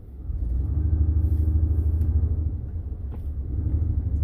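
A 2015 Ford F-150 EcoBoost Platinum drives slowly in four-wheel drive high, giving a steady low engine and drivetrain rumble heard close from inside the cab.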